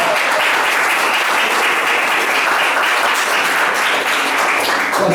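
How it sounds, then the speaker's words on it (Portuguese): A church congregation applauds after a scripture reading during an evening service, a loud, dense and continuous clapping that holds steady for the whole stretch. "Vamos aplaudir a palavra do Senhor."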